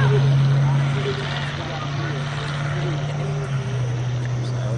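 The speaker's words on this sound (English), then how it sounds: "Hear those engines." Aircraft engines drone steadily near a soccer field during a high school match, a loud sustained hum throughout with a slight shift in pitch partway through, under noisy background.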